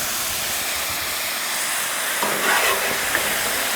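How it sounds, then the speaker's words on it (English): Italian dressing hits a hot Blackstone griddle loaded with a cowboy stir-fry, cooked outdoors while camping in the desert at KOFA. It gives off a steady, loud steam hiss and sizzle for several seconds, with a slight surge partway through. "I can't forget to add my Italian dressing to it, and that's going to give me that steam"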